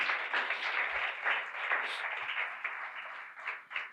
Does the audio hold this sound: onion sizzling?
no